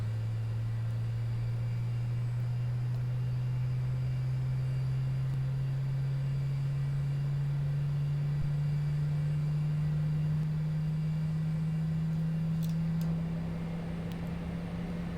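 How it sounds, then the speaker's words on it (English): Simulated Airbus A320 jet engine spooling up in the X-Plane 11 flight simulator, an Air Jamaica flight at Kingston: a steady, loud droning tone that climbs slowly in pitch over the whole stretch, with no voices. "Listen to that engine spool up."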